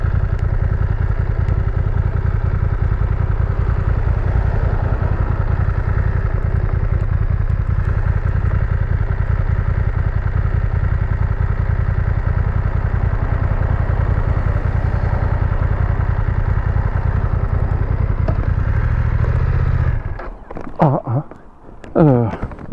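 Motorcycle engine idling on gravel, either a BMW F900R or a Yamaha 600XT, a loud close steady chugging rumble that holds for about twenty seconds before cutting out into clattering handling noises.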